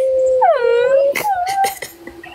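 A person imitates a dog howling, a loud drawn-out wavering tone that rises and falls, followed by a few short clatters and a fainter trailing hum.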